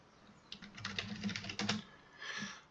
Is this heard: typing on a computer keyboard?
yes